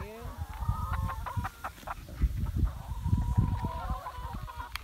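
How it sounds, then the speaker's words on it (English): Chickens clucking and squawking repeatedly at close range, several birds overlapping in a busy, irregular chatter. "These chickens are crazy."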